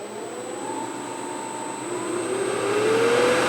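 A TW-90 knife grinder's 2-horsepower, 220-volt motor starts up, its steady hum and whine rising in pitch as it spins up, loud and close with no talking.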